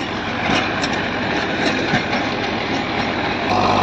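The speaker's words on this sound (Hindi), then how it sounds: "दस फीट के रोटावेटर पे बहुत बढ़िया ट्रैक्टर चल रहा है" A tractor pulling a ten-foot rotavator through a field, a steady loud engine drone with broadband churning and rattling that holds constant for the whole stretch, close by, with no voices.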